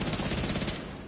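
Enemy gunfire in The Division 2 rattles out as a rapid automatic burst of evenly spaced shots, loud and close, easing off after most of a second.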